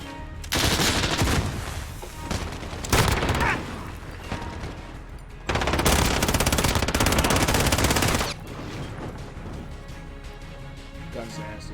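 Sustained automatic gunfire in a multiplayer shooter video game, two long loud bursts of rapid shots separated by quieter stretches of game sounds, with a player talking over the action.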